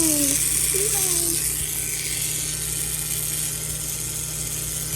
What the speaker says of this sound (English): Do you hear that? Do you hear that motor? Look at it go!